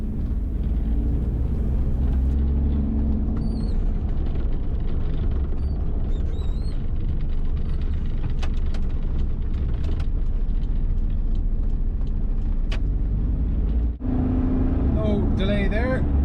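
Interior drone of a 1992 Daihatsu Charade with a 1-litre turbo diesel, driving through a town in Ireland: a constant loud low engine and road rumble, with brief clicks and a short dip near the end.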